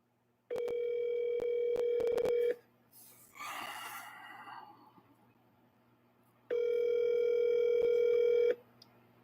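A phone line rings back twice, each long electronic ring lasting about two seconds, separated by a quiet pause with faint background rustling.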